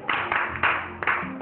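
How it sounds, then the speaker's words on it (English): Children clap for themselves at an art club session, a few short bursts of light hand claps, close and fairly loud, with brief pauses between them. "Can you clap for yourself?"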